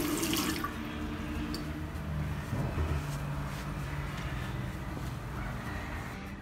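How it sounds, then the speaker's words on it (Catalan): Hands washed with soap under running tap water, a steady close splash and hiss of flowing water with small sloshing variations throughout, no voices. "cal rentar les mans amb aigua i sabó"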